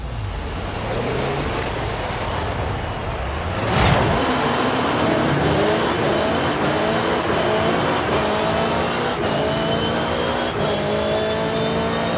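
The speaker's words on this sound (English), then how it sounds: "Listen to those turbos." Turbocharged cars race by at speed, engines revving and climbing through gears in rising, overlapping tones with a sharp burst of noise early on, loud and continuous with no voices.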